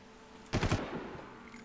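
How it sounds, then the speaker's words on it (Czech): Gunfire in the Far Cry video game, shot into bushes: a short, loud burst of several rapid shots, then fading reverberant tail, no talk. "Prostřelíme křoví."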